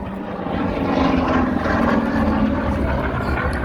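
F4U Corsair with a 2,000 horsepower Pratt & Whitney R2800 radial engine flies past at an air show, a broad, loud, steady droning roar with no voices.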